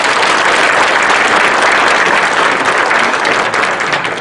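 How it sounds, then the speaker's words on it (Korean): Loud, sustained applause from a lecture audience at a public humanities talk held at the Changwon court, a dense wash of clapping that stays strong throughout without any speech over it. "교수님께 다시 한번 뜨거운 박수"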